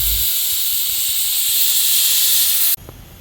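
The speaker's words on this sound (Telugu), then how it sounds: "2 విజిల్స్ అయితే వచ్చేసాయి." A pressure cooker on a home stove lets off a loud, continuous hissing whistle of escaping steam that cuts off abruptly near the end, leaving a quieter background.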